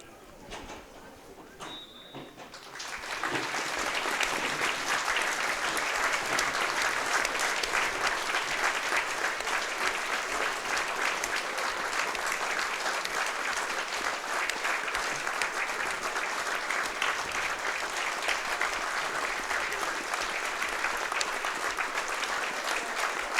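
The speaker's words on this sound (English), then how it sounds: "Now we're having a minute's applause, Lawrence, for former player Bert Ferguson" Sustained applause from a football crowd at a Scottish stadium during a minute's tribute before kick-off, starting after a quiet few seconds and continuing steadily and densely to the end.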